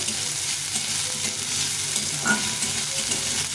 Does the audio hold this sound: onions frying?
yes